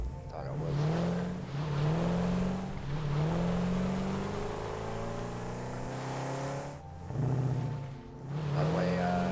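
A car in the video game Satisfactory drives along with a loud, close engine drone that rises and falls in pitch as it speeds up and eases off in repeated waves.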